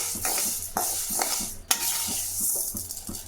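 Lentils dry-roasting in a pan for idli podi, a soft sizzle under a steady run of spatula scrapes and light rattling stirs, one sharper knock midway, close up with no voices.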